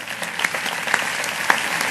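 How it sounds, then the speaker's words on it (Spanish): A live audience claps steadily to welcome chef Ángel León, a dense, even wash of applause from a crowd, with a few sharper individual claps standing out. "Un aplauso para..."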